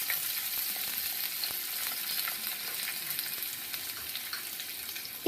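Curry leaves, dried red chilies and chopped ginger sautéing in oil for a fish curry give a steady, fairly quiet hiss and crackle with occasional faint stirring ticks.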